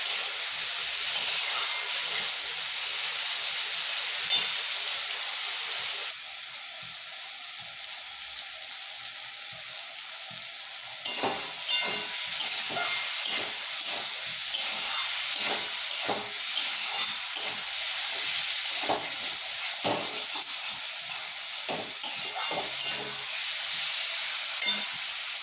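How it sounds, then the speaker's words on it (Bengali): Spices with tomato and green chilli fry in a pan, giving a steady dense sizzle throughout, with a slight drop at one point and scattered scraping and stirring clicks in the second half. "তো টমেটো আর কাঁচা লঙ্কা দিয়ে সেটাকেও ভালো করে ভেজে নিতে হবে।"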